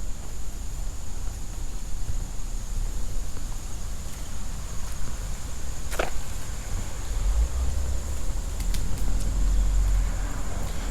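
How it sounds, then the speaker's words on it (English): Distant street traffic near Seton Falls Park and East 233rd Street makes a steady, faint, broadband hiss and rumble, with a few brief sharp sounds and low thumps toward the end. "you can hear the traffic."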